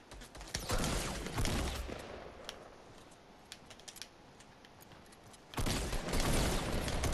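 Video game gunfire in a duo match: dense, rapid bursts of shots ring out loud at the start, thin to scattered, sharper single cracks in the middle, then surge back into sustained heavy firing near the end.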